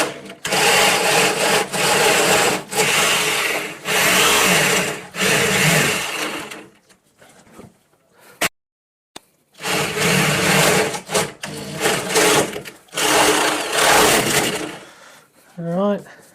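Power drill boring a hole through a door for a handle set, loud close bursts of grinding whir in two long runs split by a short pause, with a voice talking faintly at the very end.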